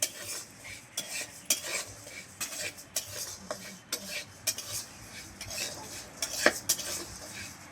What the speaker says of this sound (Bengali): এবারে নুন মাখানো চালটা কড়ার মধ্যে একটু নেড়ে চেড়ে নেওয়া হচ্ছে।